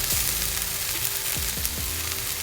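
Shallot and garlic sizzling in olive oil in a pan, a steady dense hiss of frying with a few soft clicks and taps of stirring, heard close and without talk.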